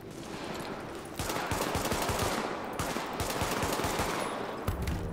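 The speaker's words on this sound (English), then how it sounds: "I'm gonna go behind him and shoot him in the head." Rapid gunfire while shooting an enemy in the video game Tom Clancy's The Division, with bursts of repeated shots in a steady rhythm that pause briefly and then resume, fairly loud, with no talking.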